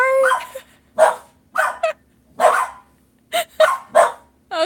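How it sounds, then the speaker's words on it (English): Several household dogs bark loudly in repeated bursts, close by, with short gaps between the barks and a few higher yips mixed in. "since my dogs are gonna go crazy. Hey, dogs, hush!"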